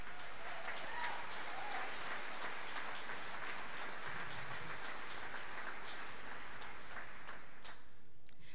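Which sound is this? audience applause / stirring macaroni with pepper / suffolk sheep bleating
audience applause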